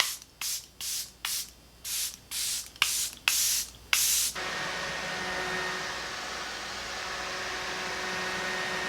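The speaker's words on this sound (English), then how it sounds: "I am going to spray my favorite setting spray for long-wearing makeup" Eight short, sharp mist sprays from a makeup setting spray bottle in a quick even series, then a faint steady hiss of background noise with no talking.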